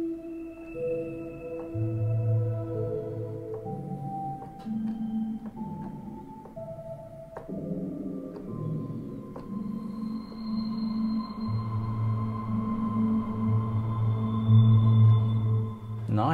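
Sustained synthetic brass tones from Output's Analog Brass & Winds software instrument play a slow melody of held notes, washed in long reverb tails, quiet and alone.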